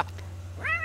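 A pet cat in The Sims 3 gives a single short meow near the end, close and clear over a steady low game hum.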